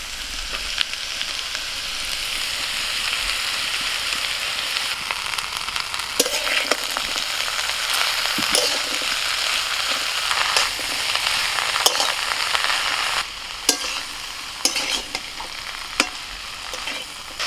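Bottle gourd greens with potato and stems stir-fry in a hot pan, giving a continuous close sizzle broken by sharp scraping strokes of a spatula, several in quick succession toward the end.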